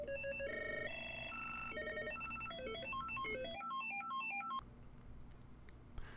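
A Mitel 6869i desk phone plays ringtone previews one after another: short electronic melodic trills and beeping note patterns, fairly faint and clear, changing tune several times before quieter stretches.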